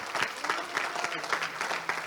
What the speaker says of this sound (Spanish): Si le va a dar el aplauso al Señor, déselo fuerte.